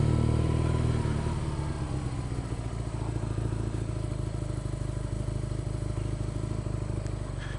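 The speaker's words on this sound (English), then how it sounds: "Tell you, the stock pipes on this thing sound awesome." A 2016 BMW R nineT motorcycle rumbles through its stock exhaust pipes, a deep, steady, close engine drone that starts a touch louder and then settles into an even cruising note.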